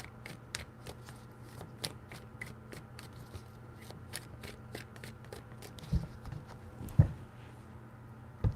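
Tarot cards are shuffled by hand in quick, irregular riffs and flicks, close and fairly quiet, with sharper snaps now and then and no talking.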